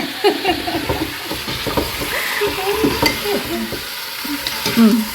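Flour, green cardamom and spices sizzle and fry in a pan for chicken curry, with steady hissing broken by a utensil stirring and scraping close by.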